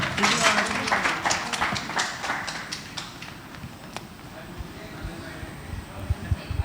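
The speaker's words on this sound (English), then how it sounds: "A round of applause for Vikas." An audience at the Filmfare magazine launch claps briskly for Vikas Behel. The dense clapping is loudest at first, then thins and fades to a few scattered claps while voices talk underneath.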